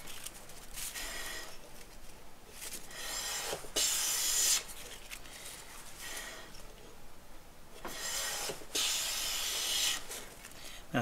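Woodriver low angle jack plane taking shavings off a board, heard as repeated raspy hissing strokes, several long passes with quieter handling between, fairly close and alone.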